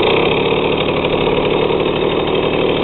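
A Soviet Stella 2.136 moped's small two-stroke engine runs steadily up close with a loud, even, buzzing putter and no pauses.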